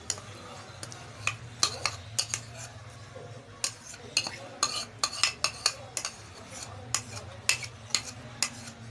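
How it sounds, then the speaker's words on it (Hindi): A utensil clinks and scrapes steadily as mayonnaise is mixed into chicken sandwich filling with black pepper, a busy run of close, sharp taps against a bowl. "इसको अच्छी तरह मिक्स करेंगे।"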